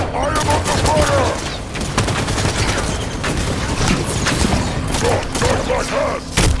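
Dense gunfire in a Halo 5: Guardians battle against Covenant forces, rapid overlapping bursts of shots filling the whole stretch loudly, with game voices faintly underneath.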